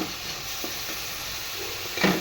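Ingredients for a pulao sizzle and are stirred in a hot pan, a steady frying hiss with occasional spoon scrapes and a slightly louder stir near the end.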